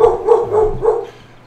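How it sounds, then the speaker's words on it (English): On a Saturday night, dogs bark close by in a quick run of three or four loud barks that fade out at the end, with no talking. "you got the dogs barking, so it's getting fairly distracting"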